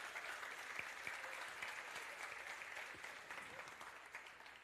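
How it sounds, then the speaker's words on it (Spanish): Steady applause from a church congregation during a sermon, a continuous wash of many hands clapping at moderate distance, holding roughly even before tapering slightly at the end. "Un aplauso para ellos."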